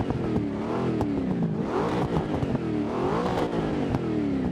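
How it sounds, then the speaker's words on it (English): A Ford Mustang's engine revs in a racing video game played with a wheel and shifter, a loud continuous roar whose pitch rises and falls through repeated acceleration, with no voices over it. "we all got to hear what the Mustang sounds like"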